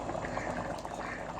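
A small amount of ghee poured into a hot cooking pot, giving a steady, close sizzling hiss that runs through the whole moment without pause.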